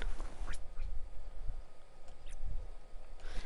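Quacking from a duck helmet worn by a character in the video game Biomutant, a few short quacks over steady game background noise, with no talk.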